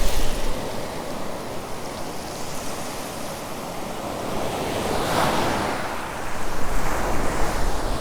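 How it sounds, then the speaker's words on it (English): Medium surf rolls onto a Sanibel Island beach in Florida, with waves washing in and breaking close by in a continuous roar that swells near the end, mixed with wind buffeting the microphone. "it's a pretty harsh surf. Well, not harsh, but medium harsh surf"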